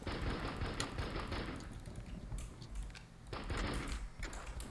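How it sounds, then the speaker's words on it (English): Rapid, loud pistol fire in the blocky survival game Castleminer Z, shots cracking in quick dense bursts with a brief lull midway before firing resumes, with no talking. "I'm lighting his ass up with this pistol"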